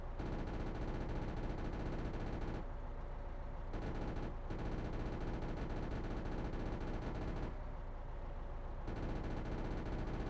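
A tank's machine gun fires continuously in the video game Arms Trade Tycoon Tanks, a loud dense rattling burst with brief gaps where the fire pauses and resumes.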